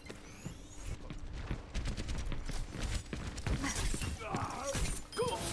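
Rapid bursts of Overwatch gunfire crackle and pop over a busy, noisy background, with some excited vocal sounds mixed in.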